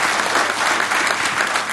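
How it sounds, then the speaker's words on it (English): An audience claps for student volunteers at an event in a hall. Dense, loud applause fills the short stretch evenly, with no voices over it. "A big round of applause for all of them."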